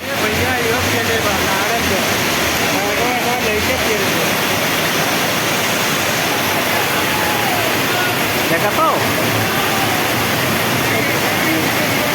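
Loud, steady rush of fast-moving floodwater after heavy rain, deep enough to half-submerge a motorcycle, fills the whole stretch, with a voice speaking briefly over it.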